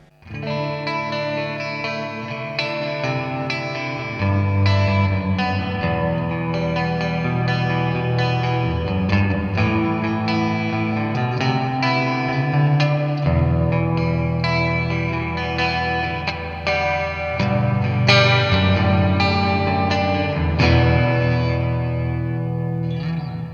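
An electric guitar plays chords and notes through a Joyo Ironman JF-317 Space Verb pedal with heavy, lingering reverb and a slightly distorted, shimmering tone, steady and loud throughout.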